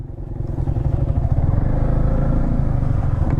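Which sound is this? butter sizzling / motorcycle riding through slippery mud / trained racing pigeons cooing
motorcycle riding through slippery mud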